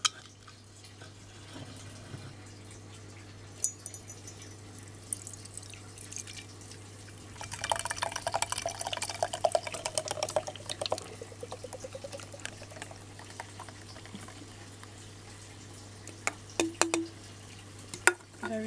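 Perrier pineapple and mango sparkling water is opened and poured, a soft fizzing pour with dripping and crackling bubbles heard near and faint, no talking.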